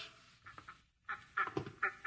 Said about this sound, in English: Here are the ducks.